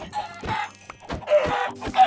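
Video game chickens clucking in a survival game, several short close clucks in an uneven rhythm with small gaps between them, clear and fairly loud.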